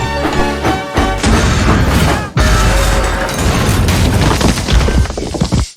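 Trainz game scene of rails giving way under ballast and a locomotive crashing into a mine: loud crashing booms and smashing metal, a sharp break midway then a continued clattering crash, no speech.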